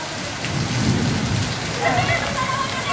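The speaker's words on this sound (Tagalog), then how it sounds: "Biglang bumagsak ang napakalakas na ulan" Heavy rain pours down steadily in a dense, continuous hiss, with a low rumble underneath throughout.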